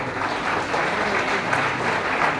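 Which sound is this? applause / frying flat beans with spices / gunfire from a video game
applause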